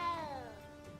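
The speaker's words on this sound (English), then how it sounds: "Oh, it's a cat. We'll pet the cat." A cat meows in the video game Hogwarts Legacy, a single drawn-out, falling meow heard close and clear with no talk over it.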